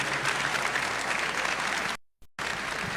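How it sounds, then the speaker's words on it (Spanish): Applause from a conference audience sending off the speakers, steady dense clapping cut by a brief gap of silence before resuming, moderately quiet. "despidamos con un aplauso"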